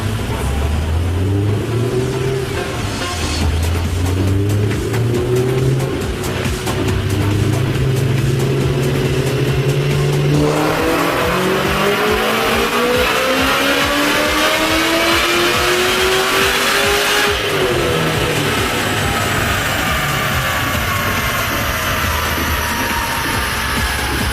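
A powerful tuned 700 whp Shelby GT500 with headers revs hard and accelerates through rising gear pulls, loud and throaty throughout, with pitch climbing then shifting.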